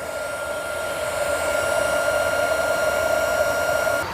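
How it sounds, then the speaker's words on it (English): Heat gun shrinking heat-shrink tubing on car wiring for a 1991 Honda Civic wagon distributor plug, a steady close whirring blower with a constant hum that runs for about four seconds and then cuts off. "let's heat shrink it"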